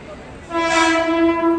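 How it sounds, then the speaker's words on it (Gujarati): A Mumbai local train arriving at a station sounds a loud, sustained horn that begins about a third of the way in and holds to the end, over low station rumble. "જો આવી ગઈ ટ્રેન મુંબઈ લોકલ"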